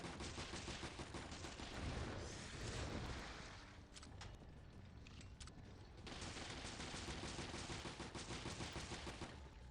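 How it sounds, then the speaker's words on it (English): Sustained machine gun fire in the video game Resident Evil Revelations, loud dense rapid bursts that ease off briefly in the middle before resuming at full intensity. "the machine gun's doing some work"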